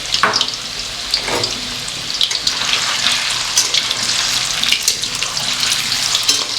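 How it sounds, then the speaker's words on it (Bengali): Chicken koftas fry lightly in oil in a pan, giving a steady close crackling sizzle with occasional louder pops and no talking. "কোফতা খুব বেশি লাল করে ভাজার দরকার নেই, একটু হালকা করে ভাজলেই হবে"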